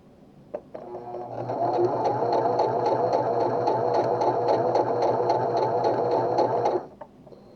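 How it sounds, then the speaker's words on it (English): A Pfaff Smarter 140s/160s sewing machine stitching fabric runs at a steady, fast, buzzing whir for about five seconds, starting after a couple of soft clicks and stopping abruptly. It is close and loud with no voices. "put my fabric under the foot, put the foot down, and start to sew"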